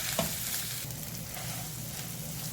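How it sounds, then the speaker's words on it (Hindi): Chicken slider mixture frying in a pan, a close steady sizzle with a soft scrape of stirring near the start. "अच्छे से मिक्स करने के बाद हम इसको 1 to 2 मिनट के लिए अच्छे से फ्राई कर लेंगे"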